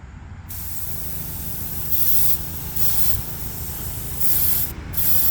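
Steady hissing spray of thinned green paint from a spray gun runs throughout, with several louder bursts as the nozzle is triggered harder, close and continuous.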